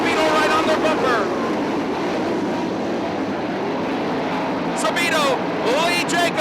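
410 sprint cars racing at Attica Raceway Park in Attica, Ohio, a continuous loud engine roar with cars sweeping past, heard beneath a race commentator's voice.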